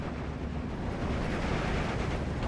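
Aircraft strafing runs in the video game Steel Division 2 produce a dense, continuous roar of rumbling explosions and gunfire. The sound is loud, near and blended into one broadband wash, with no talking.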